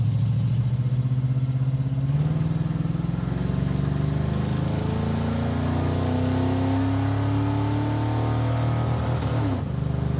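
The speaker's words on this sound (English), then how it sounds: "Watch, give it a little rap of the throttle." Dodge Charger engine held at high revs with throttle blips and valve float, a loud close roar that climbs steadily in pitch, then drops sharply near the end.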